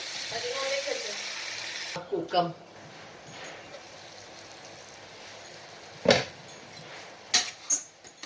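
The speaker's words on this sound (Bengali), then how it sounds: "একটু নাড়াচাড়া করে দিচ্ছি, আবার একটু ঢাকা দিয়ে দেবো যাতে মিশে যায়" Chicken curry is stirred in a pan: a soft sizzle fills the opening seconds, then goes quiet, broken by a few scattered spoon scrapes and clinks near the end, with a faint voice in the background.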